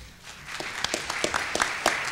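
Applause rises at a book presentation, many hands clapping in a dense, moderately loud patter that builds over a couple of seconds.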